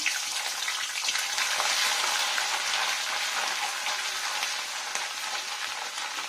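Grated coconut frying lightly in hot oil for a vegetarian new-potato aloo dum, giving a steady, close, even sizzle that holds for the whole stretch with no voices.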